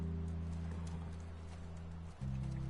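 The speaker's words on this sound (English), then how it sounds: "the idea is just this little horse riding montages" Horse riding in The Last of Us, with steady hoof clip-clop running through the scene under a sustained low musical drone, fairly loud and continuous.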